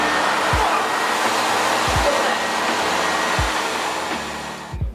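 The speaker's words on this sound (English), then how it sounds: "right now the vacuum is going to turn on" A screen printing exposure unit's vacuum pump runs as a steady, loud broadband whoosh, with a few low thumps along the way, then cuts off abruptly at the end.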